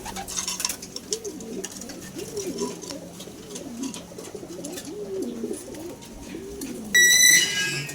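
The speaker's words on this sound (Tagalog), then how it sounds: "Ito naman si Guan, bali kaya pa niyang lumipad" Racing pigeons coo steadily in a loft, repeated rolling calls close by, with a brief burst of higher chirps near the end.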